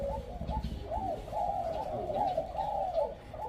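A dove coos repeatedly in soft, rolling phrases, close by, with faint background noise and no talking.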